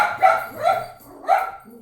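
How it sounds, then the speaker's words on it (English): A pet dog barks in three loud, close bursts indoors, with brief pauses between each bark. "my dog's barking."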